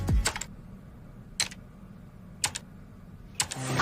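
Several isolated keystrokes on a computer keyboard, four sharp clicks spaced about a second apart over a quiet background.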